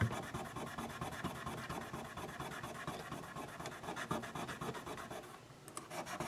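Sandpaper rubs back and forth over the frets of a Harley Benton guitar in quick, rhythmic, close strokes, soft and scratchy with no talking.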